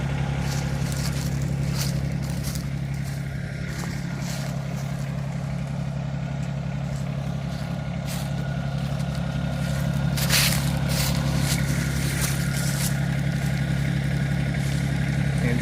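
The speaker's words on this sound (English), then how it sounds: "Let's see if the tractor can lift it." A Yanmar SA324 compact tractor's engine runs steadily close by as it strains to lift a large, solid log, a constant low drone with some scraping and clatter, rising slightly in load near the end.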